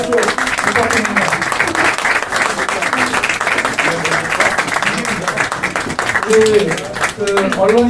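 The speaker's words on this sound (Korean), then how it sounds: "박수 부탁드립니다" A crowd at a People Power Party emergency committee chair's inaugural press event claps in a dense, sustained round of applause. Voices and speech mix in underneath the clapping throughout.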